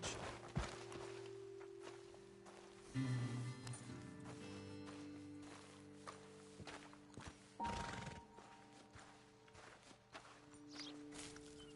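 Horses whinny and hooves clip-clop in Red Dead Redemption II, mixed with game ambience; a neigh rises near the start, with steady stepping and soft thuds continuing throughout at moderate level.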